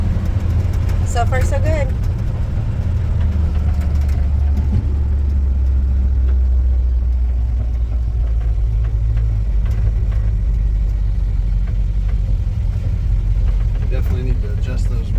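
A restored 1947 Ford car on its first ride rumbles steadily with a low engine drone throughout, while people talk over it inside the cabin.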